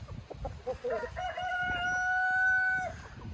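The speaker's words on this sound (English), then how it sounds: "These are not horses, Mom. These are chickens running." A rooster crows in a long drawn-out call close by, with scattered clucking and farmyard bustle around it.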